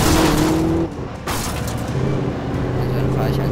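A car engine drones steadily while driving in the video game Alan Wake, the hum dipping briefly before resuming with a low rumble, heard alone without talk.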